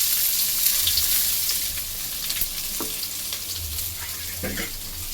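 Onion with whole spices, cinnamon and fennel, frying in oil in a pan, giving a steady close sizzle with faint scraping and stirring taps throughout.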